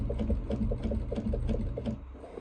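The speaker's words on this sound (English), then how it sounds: "And what I do is I pivot and sew across." Domestic sewing machine topstitching along the side of a fabric piece, a steady rapid needle chatter with regular rhythmic pulses, close and moderately loud, slowing and pausing briefly near the end.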